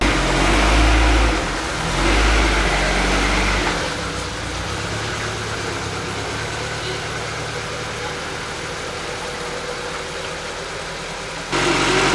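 A turbocharged Honda Integra engine idles steadily with a low, even rumble, louder at first and then settling into a constant hum.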